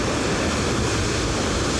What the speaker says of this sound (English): The helicopter of the lighthouses and beacons just landed at the bow of the Pharos.